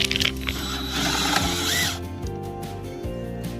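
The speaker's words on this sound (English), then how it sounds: "After drilling my first pilot hole, I came in with this bigger bit" A power drill boring a pilot hole in wooden furniture whines at high speed, then winds down with a few short ratcheting bursts and clicks, close by.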